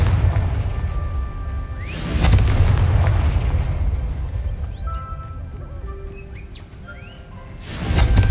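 A Confringo spell explodes in Hogwarts Legacy, inside the Moonstone Garden dungeon in Irondale: a heavy booming blast with a rumbling tail, magical chirps and tones in between, then another loud burst near the end.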